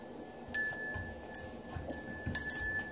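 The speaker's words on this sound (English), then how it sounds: "Ring the bell." A young puppy paws at a small bell, setting off four bright metallic rings at irregular intervals, each ringing out sharply then fading, close and clear over a quiet room.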